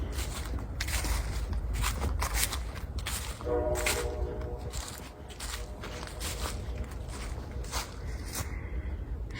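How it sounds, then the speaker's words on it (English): A train horn sounds faintly from far away for about a second, partly masked by nearby crunching footsteps and rustling in woods at night. "The train's honking back, I guess."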